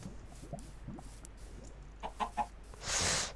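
Chickens in the Minecraft video game give a few soft clucks, then a short burst of louder sound at the end, all faint and without talk.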